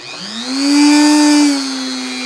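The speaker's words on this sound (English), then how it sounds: "Turn on this Dremel." A Dremel rotary tool spins up at mid-speed to a steady, loud whine, holds it evenly for about a second, then eases slightly lower and runs on alone.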